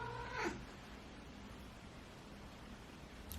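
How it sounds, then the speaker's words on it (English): A pet cat named Sprinkles cries out with one short, faint meow early on, then only a steady background hiss remains with no talking. "It's my cat."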